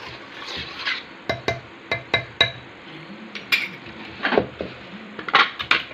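A spoon stirs jaggery into a hot mixture of rice and wheat for kheer in a pan, with sharp metallic clinks and scrapes landing in irregular bursts over a quiet background.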